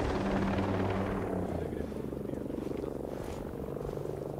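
A helicopter in the video game Ghost Recon flies overhead, its steady rhythmic rotor thump fading into the distance over a low background rumble.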